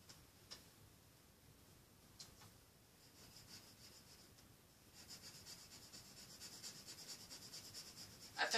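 A yellow coloured pencil scratching across paper while shading a lighthouse drawing, very faint continuous rubbing strokes with occasional light taps, growing slightly busier toward the end.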